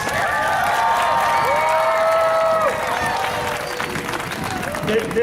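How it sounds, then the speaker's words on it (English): Students at a Hunger Warriors rally at the Texas state capitol break into loud, sustained applause and cheering from a large crowd, with shouts and whistles over steady clapping throughout. "How about a big round of applause and a big cheer for yourselves?"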